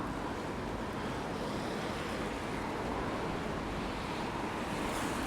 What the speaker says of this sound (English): It is definitely windy.